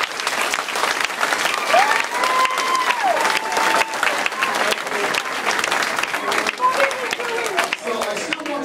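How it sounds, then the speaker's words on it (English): A seniors' audience at a hypnosis show claps in a lively round of applause, textured and uneven, with a voice speaking and some vocal sounds over the clapping. "This nice round of applause doesn't wake you"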